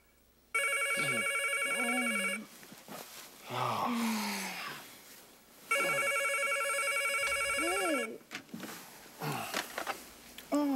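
Telephone ringing in two long electronic bursts inside a home at night, each trill loud and steady with a pause between them, and voices speaking in the gaps and afterward.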